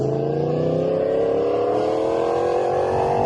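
A car passes on the road near a motorcycle rider, its engine drone rising steadily in pitch and staying loud and close throughout.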